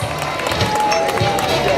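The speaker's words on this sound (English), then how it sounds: "Let's give grade 3 a round of applause." Applause and cheering for third graders at a school word parade, a dense, loud crowd roar with clapping and movement mixed in, continuous for nearly two seconds with voices present.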